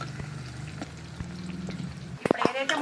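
Small onions with cinnamon, cloves and cardamom frying in hot oil in a kadai, a soft sizzle under faint tonal hum, followed by a couple of sharp utensil clinks near the end.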